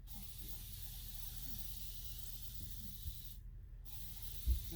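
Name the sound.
water being sprayed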